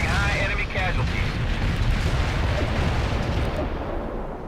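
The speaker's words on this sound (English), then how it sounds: "Heavy artillery barrage inbound." Heavy artillery barrage pounding a battlefield in the World in Conflict video game, a dense continuous roar of overlapping explosions and booms, loud and sustained throughout with voices faintly mixed in.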